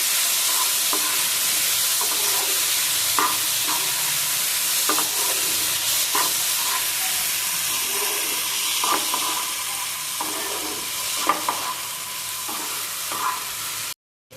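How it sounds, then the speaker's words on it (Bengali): Turmeric fries in a pan before sago is added, giving a steady, fairly loud hiss and sizzle with occasional soft scrapes and taps of stirring, then an abrupt cutoff at the end; no one talks. "হলুদটা একটু পুড়ে নেই, তারপরে এর মধ্যে দিয়ে দেবো সাবুদানা"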